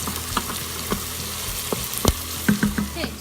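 Minced garlic sizzles in the pot of a pressure cooker, with a constant frying hiss underneath and several sharp scrapes and taps of a stirring utensil, close and fairly loud.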